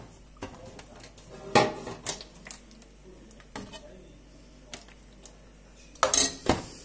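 Eggplant sauce is spooned from a pan into a baking dish, with scattered metallic clinks and scrapes of a spoon against cookware. A few quiet sounds come between the clinks.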